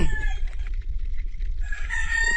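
A rooster crows nearby, a loud drawn-out call that breaks briefly and resumes, with no talk.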